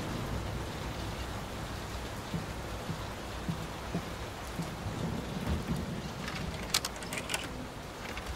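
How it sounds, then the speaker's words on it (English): Heavy rain hammers down through a thunderstorm inside the horror game Layers of Fear (2023), a dense steady downpour with low thunder rumbling beneath and faint drips and clicks scattered on top. "Will this storm ever run out of rain?"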